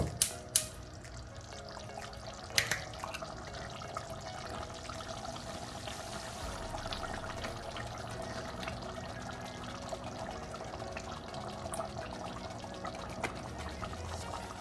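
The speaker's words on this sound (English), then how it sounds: "I'm going to add about 1/2 cup of fresh cream" Fresh cream being poured into a simmering chicken curry sauce for a Durban-style bunny chow, a soft steady liquid trickle over a low bubbling background, with a couple of brief sharp knocks near the start.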